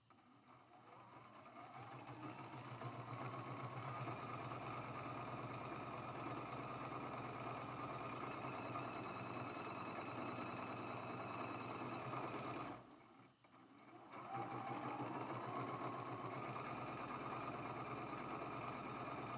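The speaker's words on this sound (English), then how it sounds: "We're going to go ahead and sew these together with a 1/4 inch seam allowance too." A sewing machine runs steadily, stitching quilt strips together with a quarter-inch seam for a rail fence block. The motor whirs continuously at close range, breaks off briefly near the end, then starts again.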